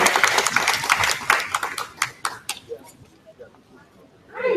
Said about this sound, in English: let's give Joel a round of applause